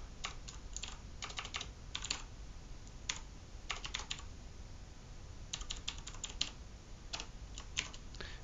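A password is typed on a computer keyboard in short bursts of quick key clicks separated by pauses, close and clear with no talking.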